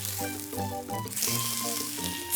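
Thin, salt-and-peppered pork slices coated in flour and egg sizzle loudly in a pan for pork piccata in an anime cooking scene, a steady bright crackle under soft musical tones.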